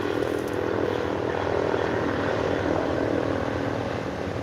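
A helicopter flying overhead near Niagara Falls State Park in autumn, a steady droning rotor and engine rumble that holds evenly for several seconds, fairly loud and alone without talk.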